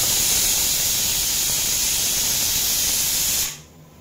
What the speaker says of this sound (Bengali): এখন আমি কুকারের ঢাকন লাগিয়ে এর মধ্যে সিটি দেব 12টা